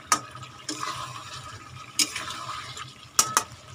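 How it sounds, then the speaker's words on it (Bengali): Meat and onions frying in a pan while being stirred for a raw jackfruit and chicken curry, with soft sizzling and a few sharp clinks of a spoon against the pot, close and alone. "মাংসটাকেও ভালো মতন কষাতে হবে, কষাতে হবে যতক্ষণ না পর্যন্ত এই পেঁয়াজটা গলে যাচ্ছে"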